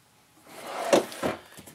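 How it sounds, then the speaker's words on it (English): A full-extension drawer on ball bearing guides in a Forest River Salem Villa 395FKLTD RV slides with a rolling rumble, then two close, distinct bumps as it stops and shifts, alone and with no talk. "full extending ball bearing drawer guides here as well too."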